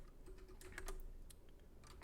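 Fast typing on a computer keyboard while coding, a quick irregular patter of close key clicks with no talking.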